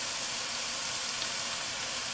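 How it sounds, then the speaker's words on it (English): Dried sage and thyme mixture sautéing in a pan, a soft steady sizzle with crackle, even and close with no pauses. "So we let this mixture saute for another 5 minutes in a low and slow fashion."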